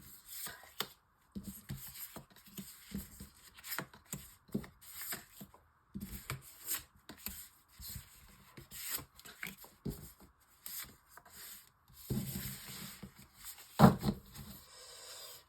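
Tarot cards shuffled and laid out for a nine-card spread, a close run of soft papery rubs, riffles and light slaps coming in quick irregular bursts with short pauses between them, no talking.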